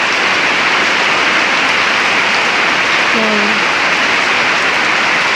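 Heavy rain pours steadily in a dense, loud, unbroken roar on a house in the summer heat, with a brief murmured voice partway through.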